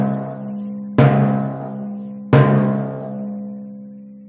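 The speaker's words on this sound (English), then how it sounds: "A bad dampen that's too close to the bearing edge or the rim would sound like this." A timpani drum dampened too close to the bearing edge at the rim keeps ringing, two struck notes with sharp attacks each followed by a long, slowly decaying resonant hum, played alone.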